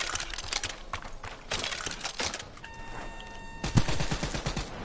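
Bursts of gunfire in a zombies shooter game, rapid repeated shots in clusters, fairly close, with other game noises between volleys and no talk.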